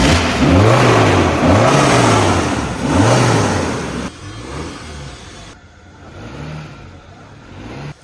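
A Mahindra Scorpio engine running after a jump start from a dead battery, revving in loud repeated surges close by, then dropping to a quieter uneven idle as it falters.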